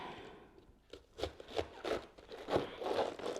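A knife slices through a head of romaine lettuce in a home kitchen, giving a series of crisp, crunchy cuts that come in irregular bursts, close and fairly loud with no talking.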